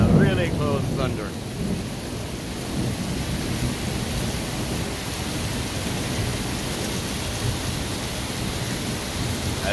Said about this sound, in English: That's how strong the rain is coming down, and it's extremely windy. Oh, whoa! That was a really close thunder.